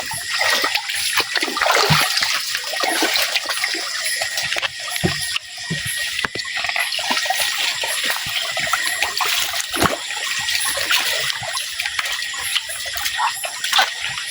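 Deep, murky water sloshes and splashes continuously up close as someone wades through it at night, with uneven surges of churning water.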